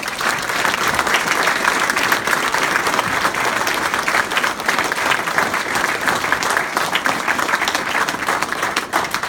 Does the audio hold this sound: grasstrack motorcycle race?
no